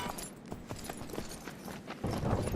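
In the video game Myth of Empires, a horse's hooves clip-clop in a quick irregular series of close, moderately loud steps over a steady background ambience, with no talking.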